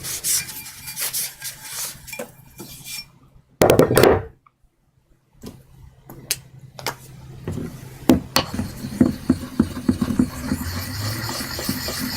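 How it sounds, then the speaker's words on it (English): A steel blade is rubbed and rasped across a final polishing stone in repeated close strokes, broken by brief pauses and a knock, with the scraping growing denser toward the end. "we'll move on now to the final stone to remove that last little burr and to put the last polish on it"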